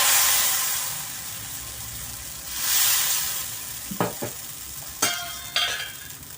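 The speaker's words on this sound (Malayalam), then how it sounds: "മാവ് ഒഴിച്ച് കൊടുക്കാം." Appam batter poured into a hot, oiled iron pan, giving a broad steady sizzle that swells midway, then a few sharp scraping clicks near the end, no voices.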